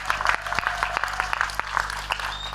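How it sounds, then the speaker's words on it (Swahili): Applause from a crowd at a primary school graduation ceremony in Muleba, welcoming the guest of honour; steady dense clapping throughout, fairly close, with a low hum underneath. "Naomba mumpigie makofi tu."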